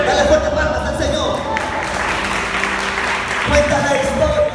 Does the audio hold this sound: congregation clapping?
yes